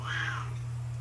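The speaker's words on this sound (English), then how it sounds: "Oh, the little Bosco kitty" A sick pet cat gives a single rising meow near the start, close and fairly loud, over a steady low electrical hum, then fades into quiet room noise.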